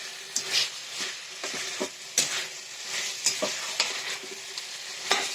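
Chicken sizzles and crackles steadily in a hot pan with a splash of vinegar, with a few sharper clinks and stirring scrapes scattered throughout.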